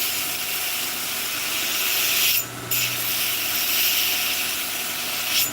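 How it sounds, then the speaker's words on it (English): A blade edge is thinned in a blacksmith shop with a continuous, steady abrasive grinding rush that breaks once briefly before resuming. The sound is close and fairly loud, with no speech. "I'm just thinning out this edge a little bit"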